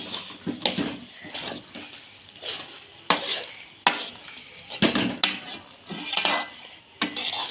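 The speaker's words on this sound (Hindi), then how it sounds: "अब इसको मैंने ज़रा भून लिया थोड़ा सा घी डाल के" Carrot halwa being stirred and fried in ghee, repeated scraping and clinking of a spoon against the pot over a soft sizzle, close and rhythmic with irregular strokes, no talk.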